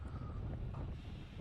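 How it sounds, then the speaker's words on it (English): Wind buffeting the microphone along an exposed stretch during a criterium bike race on Randall's Island, a steady low rumble with a faint higher whistle, with no voices. "Wind is coming right to left here. This stretch is always exposed for the wind."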